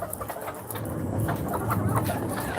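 A rooster on a small farm clucks agitatedly in short repeated bursts, close by, over a steady outdoor background with faint traffic.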